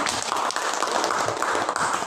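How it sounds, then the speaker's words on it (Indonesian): Students in a classroom clap for a classmate, a steady wash of many hands applauding together at close range, fairly loud and continuous with little talk. "Tepuk tangan untuk temannya."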